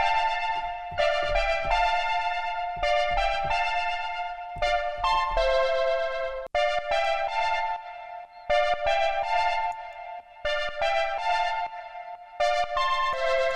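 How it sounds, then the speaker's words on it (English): Bright synth lead from a Diva synthesizer preset plays a euphoric house melody in short repeated phrases with sustained notes and brief gaps, loud and clear with no voices. "And I'll play in a melody which sounds something like this."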